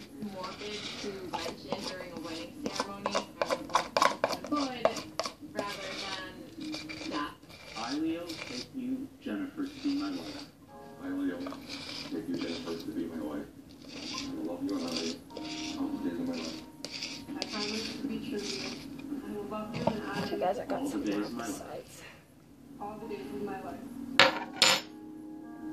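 Slime being scraped from the sides of a bowl with a utensil, giving repeated scraping and clinking strokes in irregular bursts under ongoing talk.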